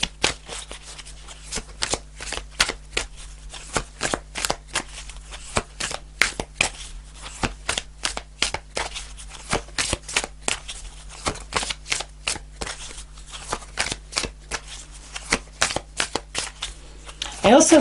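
Tarot cards are shuffled by hand in a long run of quick, crisp riffles and taps up close, keeping a fairly steady rhythm throughout.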